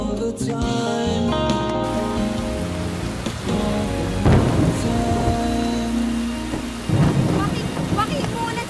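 Steady heavy rain patters across a surface while thunder rumbles beneath it, all layered over a sustained musical score, with a brief voice near the start.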